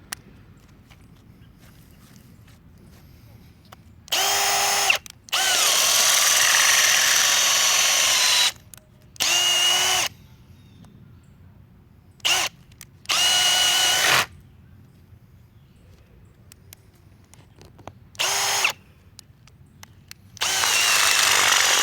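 A Milwaukee or Ridgid brushless hammer drill runs at full power in several loud bursts of one to four seconds, each with an abrupt start and stop, separated by quiet gaps.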